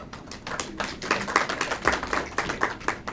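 Audience applause welcoming a speaker at a Punjabi literary gathering in Pakistan, a steady patter of hand claps from a modest crowd, moderately close and continuous.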